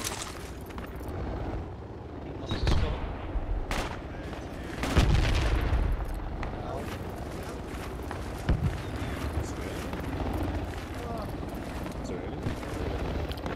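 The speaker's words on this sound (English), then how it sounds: "Enemy grenadier shooting at us." Enemy grenadier gunfire in a jungle combat video game, heard as scattered bursts and booming impacts over a constant battle din, with a loud blast near five seconds and sharper shots around three and eight seconds.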